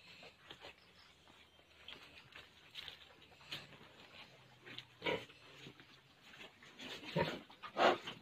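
A newborn pig grunting and oinking in short, fairly faint bursts, with a few louder squeals toward the end and low background noise.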